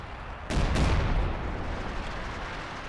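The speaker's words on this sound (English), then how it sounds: "calling artillery down" An artillery barrage in the video game Company of Heroes 2: two heavy, close booms land in quick succession, followed by a long rumbling roar that slowly fades. No one talks.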